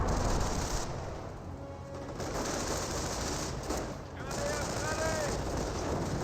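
Mortar and gunfire rumble steadily through a Company of Heroes 1 battle between US and Panzer Elite forces, a dense continuous din of shots and blasts with a voice talking over it.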